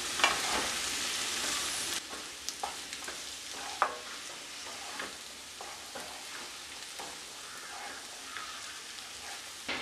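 Snake gourd and potato stir-fry sizzling in a pan while it is stirred, with irregular scraping clicks over a steady frying hiss, close and moderately loud, no voices.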